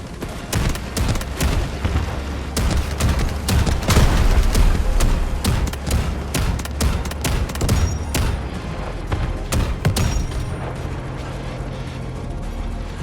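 Dense, continuous gunfire and booming explosions from enemy troops in the Delta Force video game, loud and close, with rapid overlapping shots and blasts filling the whole stretch without pause.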